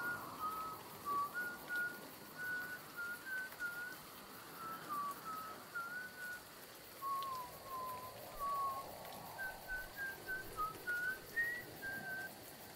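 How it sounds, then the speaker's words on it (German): Whistling in The Woods video game, a steady series of short melodic whistled notes running throughout at moderate level over a faint hiss of rain or forest ambience, with no talk. "Können Sie wieder aufhören zu pfeifen?"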